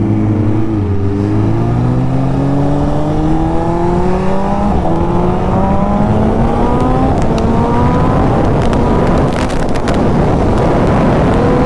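A BMW S1000 RR motorcycle accelerating in a drag race on an expressway, its engine screaming up through several gears with rising pitch sweeps, loud and close, with strong wind buffeting the microphone.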